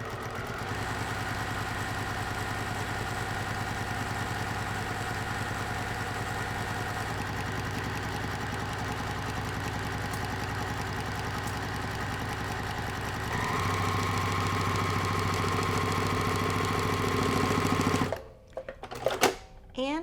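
A sewing machine runs steadily, stitching a jelly roll quilt-as-you-go table runner through fabric and batting. The motor whirs continuously and close, shifts pitch partway through, then stops into brief clicks and handling noises near the end.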